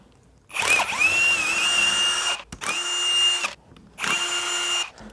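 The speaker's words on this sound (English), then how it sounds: "set this up with the drill" A power drill backs out starter bolts on a Harley-Davidson, three separate close bursts of whirring motor whine, each roughly a second long, separated by short silent pauses.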